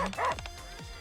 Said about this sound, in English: Ah, it's the dogs.